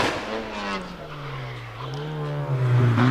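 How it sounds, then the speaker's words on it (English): A Mazda MX-5 race car is driven hard through a hillclimb hairpin, its engine note sliding down and then climbing as it powers out, with tyre squeal, loud and fairly close. "John Maycock really pushing that Mazda MX-5 into Ettores hairpin and out again on up to Pardon"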